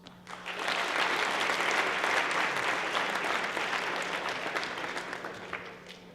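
Applause from the audience follows a student startup pitch at the RIT Tiger Tank semifinals, a loud, full crowd of clapping that swells quickly and holds steady before tapering slightly, with no voices over it.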